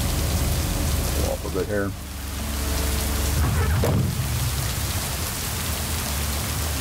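Rain falling steadily outdoors by a lake, a loud continuous hiss throughout, with a person briefly talking over it.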